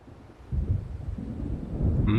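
Low, rolling thunder of an approaching storm in the Alan Wake video game, a deep rumble swelling steadily across the short stretch.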